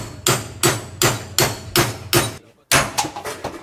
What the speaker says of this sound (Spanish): no cuesta mucho sacarlo, un poco con el cincel y el martillo, y ha salido solo